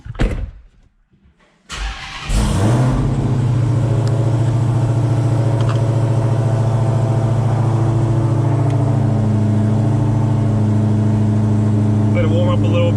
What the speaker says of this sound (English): Car is back running.